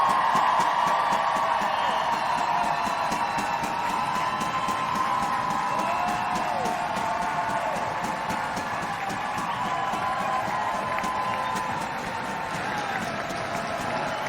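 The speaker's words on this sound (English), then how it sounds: "Maren Mjelde takes rightfully the applause here at Kingsmeadow" Spectators at Kingsmeadow give sustained applause and cheering at a Chelsea women's football tribute to Maren Mjelde, a dense, loud roar with scattered whoops that fades slightly toward the end.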